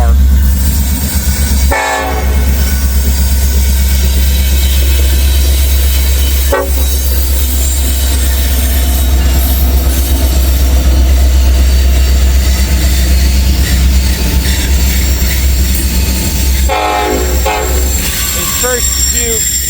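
A long freight train of boxcars and covered hoppers carrying potash and ingots thunders past close by in Hamilton, a loud continuous roll of wheels and cars with a few horn blasts and brief wheel squeals.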